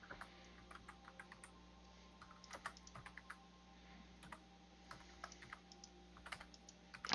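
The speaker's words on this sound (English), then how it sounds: "I hear typing." Soft, irregular keyboard clicks patter steadily through the whole stretch, faint and close, with no voices over them.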